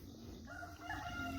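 A rooster, one of a backyard flock, lets out a single close crow, a rising then sustained call over soft background noise.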